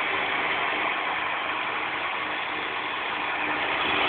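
A homemade Newman motor powered by four 9-volt batteries runs continuously with a dense, even mechanical whir and buzz, steady in level throughout with no speech.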